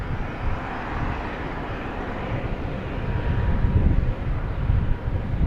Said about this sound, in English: There's Delta coming in from Minneapolis, A321, flight